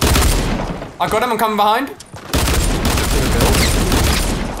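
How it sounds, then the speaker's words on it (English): Rapid bursts of dual pistol gunfire in the Fortnite battle royale game, dense and loud, with brief talking over a short pause between volleys. "I'm gonna dual pistol him."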